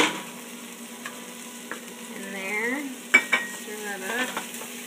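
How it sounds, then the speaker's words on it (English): Garlic fries with peppers in a pan for pumpkin chili, a gentle steady sizzle under a few light clinks and scrapes of stirring, close and moderately quiet with no talking. "Now we're going to add the garlic."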